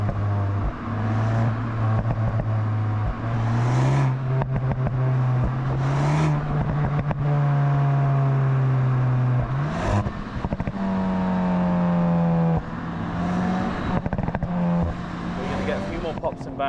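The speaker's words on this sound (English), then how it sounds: "you can actually coax a lot more sound out of this engine when you start" A 2025 Volkswagen Golf GTI Mk 8.5 four-cylinder engine revs hard, pitch climbing and dropping through several gear changes, with pops on the overrun; loud and close, no voices.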